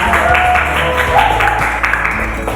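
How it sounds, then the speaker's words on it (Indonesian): A classroom of students claps after a group presentation, a brief burst of applause over a low steady hum with faint voices in the room. "Oke, tepuk tangan dulu semua."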